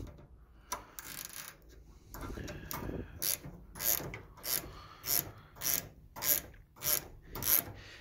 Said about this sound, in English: 13 millimeter wrench for the nut and our hex key on the bottom